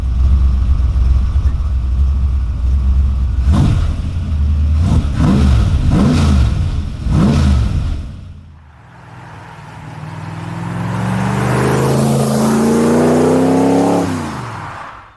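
A Ford GT40 with a Ford 302 V8 idles heavily, then blips its throttle in several sharp rev bursts through the big rear exhaust before a long climbing rev with a whooshing rush, loud and close.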